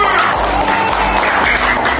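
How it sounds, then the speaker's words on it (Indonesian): Students clapping in a classroom during a social-emotional learning lesson, a loud, dense burst of hand claps with some excited voices mixed in, lasting a couple of seconds. "Oke, tepuk tangan dulu untuk Siva."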